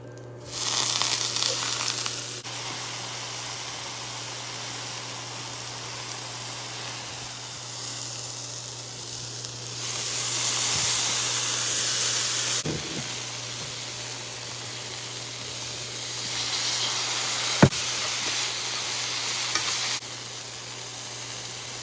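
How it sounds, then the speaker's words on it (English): Chicken sautéing in a little butter with salt, onion powder and garlic powder in a skillet, a loud, steady sizzle with occasional stirring clatter and a sharp clink, swelling and easing over its length with no talking. "saute them in a little butter, salt, onion powder, and garlic powder in another skillet."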